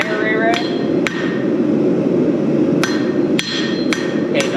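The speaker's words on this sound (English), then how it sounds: "don't hit toward the edge of my anvil. I want you to hit right in the center." Blacksmith's hammer striking hot metal on an anvil, several sharp ringing blows at irregular intervals over a steady roaring forge or blower background.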